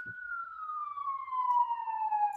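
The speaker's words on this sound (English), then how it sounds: "Could you hear that siren?" A single police siren wail in New York City sweeps slowly downward in pitch, clear and steady against a quiet background, sounding a short distance away.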